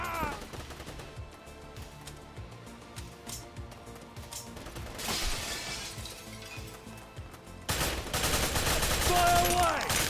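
Gunfire in the action game Wanted: Dead: rapid bursts of shots and shattering impacts mixed into busy combat music and effects, growing louder and denser near the end.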